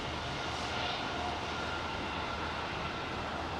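Engines of an Airbus A321neo at Heathrow Airport, a continuous broadband jet roar holding steady, heard at a distance with no voices.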